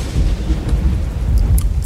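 Lightning thunder rumbles through the video game Welcome to Hanwell, a loud, steady low roar with rain-like hiss that continues throughout, with no voices heard.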